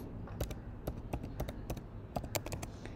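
Typing a phone number on a computer keyboard: a run of close, crisp key taps in an uneven rhythm, loud and alone without voices.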